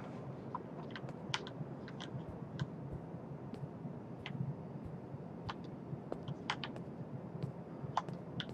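Computer keyboard and mouse clicks during video game play, scattered light taps and clicks in irregular bursts, close but quiet over a soft steady background hum.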